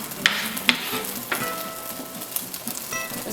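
Onions drop into a hot pan and sizzle in a close, steady crackle, with a few sharp clicks and pops over the hiss and no talking.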